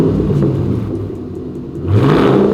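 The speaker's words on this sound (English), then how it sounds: "Really has a muscle car kind of tone to it and a lot of crackle when you get off the throttle." A nearby Mustang GT V8 with a Roush stainless steel cat-back exhaust rumbles low, then revs up sharply toward the end with a deep, throaty roar.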